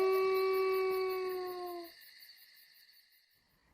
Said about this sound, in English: It was a sad howl.